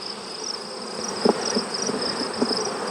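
Honey bees from a mating nuc swarm and buzz in a steady drone after being shaken onto the ground in front of the hive, with a few louder passes of bees flying close by.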